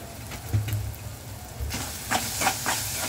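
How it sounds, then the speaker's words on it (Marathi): Masala sizzling and frying in hot oil in a pan while making kantola bhaji, a steady close hiss with a few brief stirring scrapes and spatters, no talking. "जरा तेलामध्ये परतून द्यायचा."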